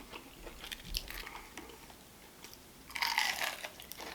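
Crisp crunching bites into an onion ring close up, a few sharp crunches early and a louder burst of crunchy chewing near the end, with no talking.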